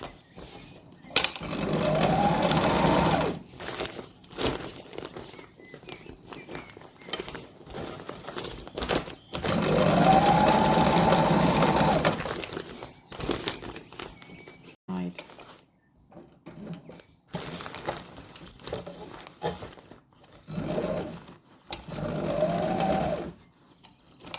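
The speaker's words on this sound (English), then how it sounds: "top stitch down the seam" A sewing machine top-stitches down the seam of a canvas tote made from an upcycled picnic rug, running in several whirring bursts separated by pauses while a person talks throughout.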